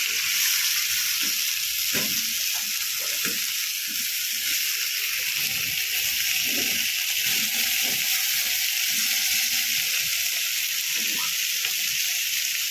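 Mackerel (bangda) fish frying crisp in a pan over high flame gives a continuous, even hiss of hot oil with occasional soft pops and scrapes, and a faint voice now and then.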